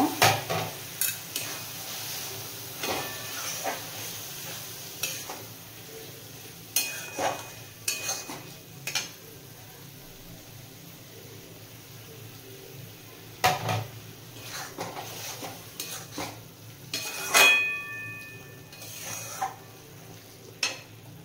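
Spoons scrape and clatter against a pan as chicken bharta is stirred while chicken stock is added bit by bit, with a steady sizzle underneath and sharp metallic clinks.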